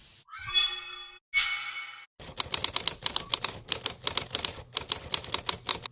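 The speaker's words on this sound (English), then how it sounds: "this one sounds a lot like typing" Typing from a sound effects pack: two bright ringing dings, then rapid, crisp typewriter key strikes clacking in an uneven, steady rhythm, close and clear.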